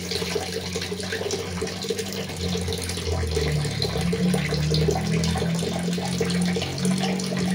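Water is poured from a container into a cooking pot for making rice, a steady splashing stream that grows fuller and louder partway through, with a low ringing resonance from the filling vessel.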